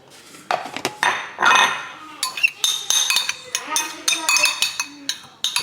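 A spoon stirs ingredients in a bowl, making repeated close clinks and scrapes against the dish in an irregular rhythm, with some faint background voice.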